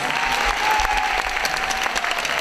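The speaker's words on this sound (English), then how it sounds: "Please give her a round of applause." An indoor audience at an event gives a steady round of applause, dense clapping from many hands sustained throughout, with no speech over it.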